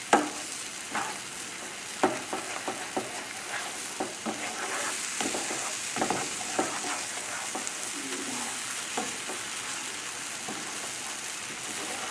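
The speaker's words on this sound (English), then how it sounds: "Scrambled eggs you want to cook and get it out of the pan." Scrambled eggs fry in a tablespoon and a half of butter in a non-stick pan over a very high flame, with a steady close sizzle broken by repeated scraping and stirring knocks.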